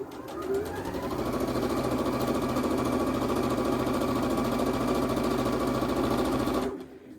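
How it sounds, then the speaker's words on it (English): A sewing machine stitches strips onto a quilt block in a fast, steady mechanical patter. It runs continuously for several seconds, close and moderately loud, then stops abruptly. "so I'm also going to sew strips on opposite sides of this 9 patch as I'm going through"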